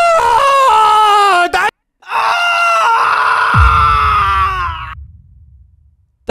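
Two long, loud, strained human screams from a meme video, separated by a brief silence; the second trails off into a lower groan as a thud and rumble come in underneath.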